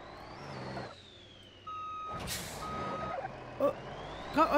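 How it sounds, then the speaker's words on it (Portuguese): A glitched, bugged truck in the BeamNG Drive driving game sounding its reversing alarm, a repeating electronic beep with an air-brake hiss and engine hum underneath, fairly loud and close, with no voices. "Olha o caminhão bugado aqui"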